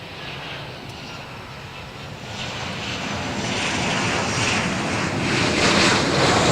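A Malaysian Airbus A330 taxiing at Adelaide Airport, a steady broad engine roar that slowly swells louder, heard from a distance outdoors with light wind.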